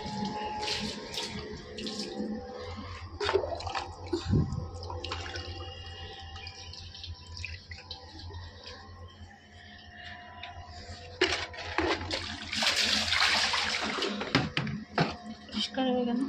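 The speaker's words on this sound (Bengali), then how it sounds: "জানলাটা একটু ধুয়ে দিই।" Water splashing and running while a window is washed at home, irregular splashes and pours of varying loudness, a burst of rushing water near the end, with someone speaking at times.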